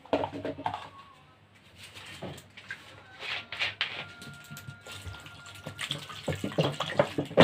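More water is poured over cauliflower in a cooking pot, a close, uneven splashing and gurgling that builds in loudness toward the end.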